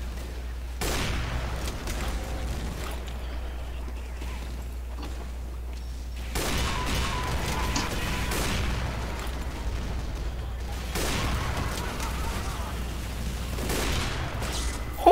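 Gunfire in a multiplayer video game: repeated bursts of sharp shots and pops in clusters several seconds apart, moderately loud over a constant low hum, with occasional faint voices.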